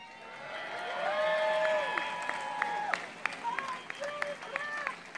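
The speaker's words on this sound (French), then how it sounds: "Ils ont applaudi le président américain Donald Trump" Crowd applause and cheering for U.S. President Donald Trump at an address by an envoy, a sustained roar that swells, then breaks into scattered claps and shouts, with a voice speaking over it.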